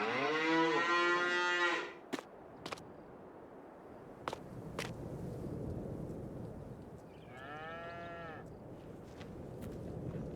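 Cattle low in the Farming Simulator 22 video game, one long moo up close followed a few seconds later by a shorter, quieter one, with a few sharp clicks and a soft farmyard ambience between them.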